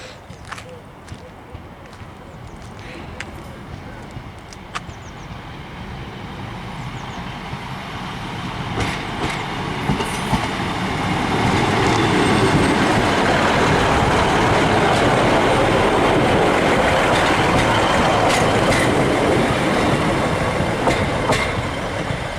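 British Rail Class 156 diesel unit 156909 passing at Grantham, a rumbling approach that swells into a loud, steady roar with rhythmic wheel clatter over the rails, close by and sustained to the end.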